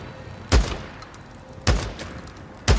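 Three loud, booming gunshots in the PC version of the video game Days Gone, spaced about a second apart, each decaying quickly over a low background hum.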